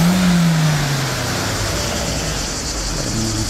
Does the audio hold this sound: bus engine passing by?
yes